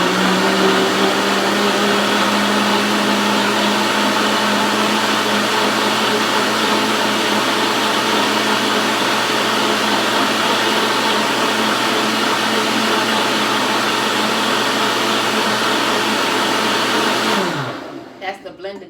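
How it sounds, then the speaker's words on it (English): A kitchen blender runs loud and steady, whirring a smoothie of bananas, dates, tahini, Ceylon cinnamon and ginger for about seventeen seconds before spinning down to a stop. "And so I'm blending it up right now"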